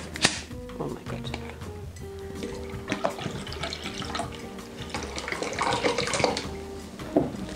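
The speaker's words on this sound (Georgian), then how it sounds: "დავუმატებ ასევე მინერალურ წყალს." Mineral water is poured into a small bowl of oat milk, a trickling, splashing pour under a speaking voice. A few clinks come near the start and end.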